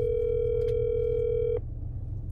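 Phone ringback tone during an outgoing call, a single steady electronic tone held loud and close for about a second and a half before it cuts off into quiet room noise.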